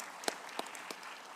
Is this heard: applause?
yes